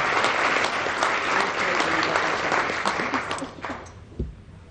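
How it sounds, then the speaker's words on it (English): Audience applause for the sponsor Investors Bank at a chamber of commerce mayor's breakfast, steady dense clapping from a room of guests that thins and fades out near the end with a few scattered claps. "Big round of applause for Investors Bank."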